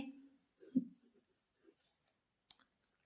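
Pen or marker writing out a Class 9 math solution, with soft scratchy strokes and taps in short bursts, faint and close, while a voice speaks quietly over it.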